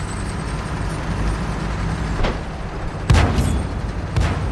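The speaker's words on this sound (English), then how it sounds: "just putting the shots in, the rate of fire on this tank is really good" A Centurion tank firing its main gun in a video game, with a few spaced booming shots over a constant engine rumble, the loudest shot arriving past the midpoint.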